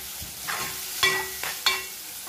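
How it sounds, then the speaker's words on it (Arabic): Chicken liver and gizzards sizzle and fry in a pot while being stirred, with soft scraping stir strokes over a steady close frying hiss. "دلوقتي بقى نحط الكبد والقوانص بتوعنا."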